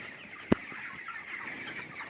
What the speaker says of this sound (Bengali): এই মুরগি সব জল খাচ্ছে।